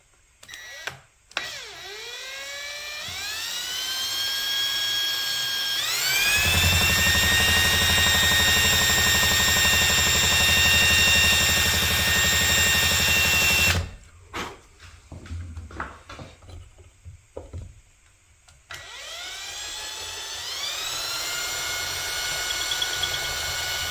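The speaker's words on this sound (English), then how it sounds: "these are cheap little drill bits. I don't want to get this thing down in there and then break it off" A drill with cheap little bits whirs up to speed again and again, its motor pitch climbing and holding loudly for several seconds, then stopping with brief rattles before spinning up once more.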